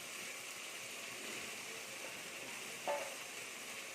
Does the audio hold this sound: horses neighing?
no